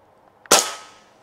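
A single sharp shot from a Crosman 3622 PCP air rifle striking a spatula target, a loud crack with a brief ringing decay, heard alone.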